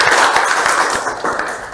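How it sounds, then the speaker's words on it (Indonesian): A classroom of students claps for a classmate's answer in a brisk, close burst of hand claps that trails off quickly, with no talking over it. "Oke, tepuk tangan buat Anda."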